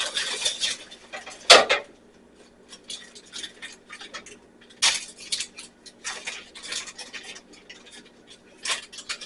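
Food items are moved onto a small metal pan, sparse clinks and scrapes of metal and utensils, a sharp clatter early then lighter taps and scratches spread out, close and alone.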